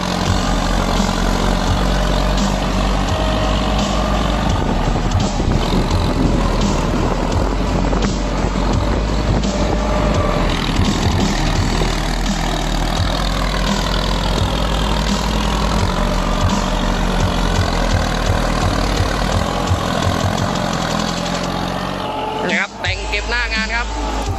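A tractor engine under heavy throttle pulling a Diamond-brand 4-disc plow during land levelling, a loud continuous roar that holds steady, with someone talking over it and the noise cutting off abruptly near the end.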